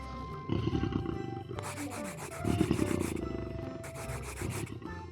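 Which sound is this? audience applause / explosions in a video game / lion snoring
lion snoring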